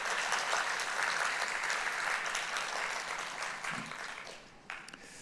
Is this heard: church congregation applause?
yes